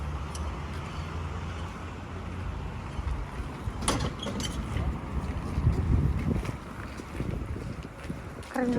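A boat engine hums steadily on the water in Helsinki, under wind noise on the microphone, with a few brief knocks and no clear speech.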